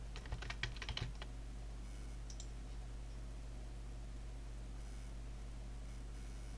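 A burst of quick keystrokes on a computer keyboard in the first second, entering a title for an online worksheet, followed by near silence with a faint hum and a couple of soft clicks.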